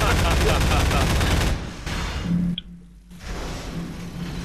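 Gunfire in a Half-Life style video game rattles loudly in rapid automatic bursts for the first moments, then gives way to quieter game sounds and a brief tone.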